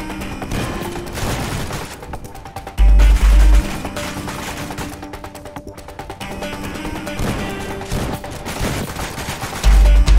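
A shotgun fires in Roblox amid a dense, continuous barrage of loud gunfire and crashing impacts, with heavy booming shots around three seconds and again near ten seconds, no talking.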